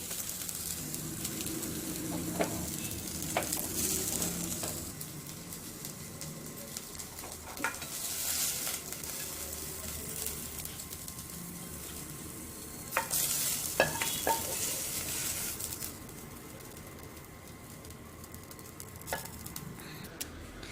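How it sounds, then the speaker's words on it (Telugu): Coriander leaves frying and being stirred in a kadai, a steady low sizzle broken by repeated scraping stirs and occasional louder bursts, continuing throughout without talk. "కొత్తిమీర అనేది బాగా ఫ్రై అయిపోయింది"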